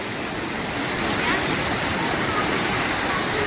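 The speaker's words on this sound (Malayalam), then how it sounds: "ഇതാണ് ദൂദ്ധാര വെള്ളച്ചാട്ടം." Dudhdhara waterfall on the Narmada river roars as a steady, dense rush of falling water, loud and continuous throughout with no break.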